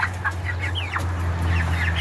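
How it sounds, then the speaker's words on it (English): Fancy feathered-foot chickens clucking nearby on a farm, several short clucks and squawks over a steady low hum. "They're fancy chickens."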